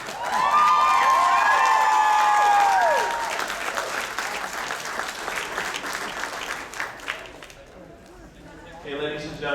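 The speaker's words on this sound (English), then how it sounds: "please, a warm round of applause for the Boondock Saints" Convention crowd at a Boondock Saints panel bursts into loud, sustained applause and cheering, with whistles ringing over the clapping before it thins and fades toward the end.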